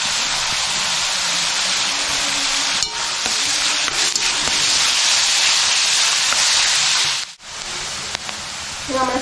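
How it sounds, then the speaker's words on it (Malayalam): Onions with turmeric sautéing in a pan for a jackfruit recipe, a steady dense sizzle running throughout with occasional scraping stirs and a brief dip near the end. "സവാള ഏകദേശം ഒന്ന് വഴഞ്ഞു വന്നിട്ടുണ്ട്"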